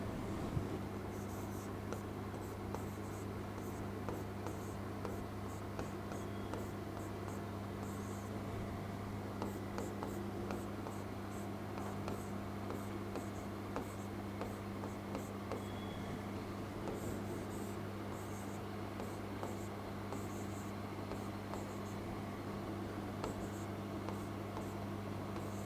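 Chalk or marker writing letters A to Z on a board in a quiet classroom setting, faint continuous scratchy strokes over a low steady hum.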